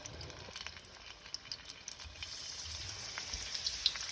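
Beer-battered shrimp fry in hot peanut oil, giving a steady, close hiss of bubbling grease dotted with small crackles and pops, growing slightly denser toward the end, with no talking.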